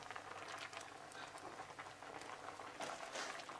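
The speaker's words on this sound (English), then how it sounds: "it's coming to a vigorous boil" Raspberry jam bubbles vigorously in a pot, a faint, busy crackle of popping bubbles with scattered louder bursts.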